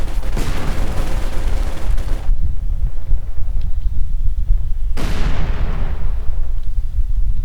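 Sturmgewehr assault rifle fire in the real-time strategy game Company of Heroes 2, loud dense bursts of battle gunfire that cut off abruptly, pause with low rumble, then resume in another heavy burst.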